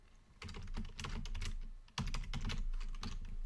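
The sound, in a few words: typing on a computer keyboard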